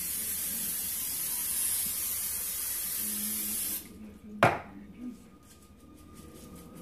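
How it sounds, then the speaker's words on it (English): A brief hissing burst of cooking oil spray over food before air frying, a single sharp spritz after a steady background hiss cuts out, followed by a faint clatter. "Let me hit that with some oil on top."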